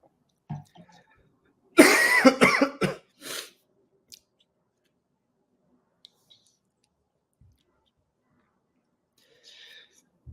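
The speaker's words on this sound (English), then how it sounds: "So I just got a bit of a cough that came." A burst of several harsh coughs close to the microphone, followed by a short throat clear, then near silence.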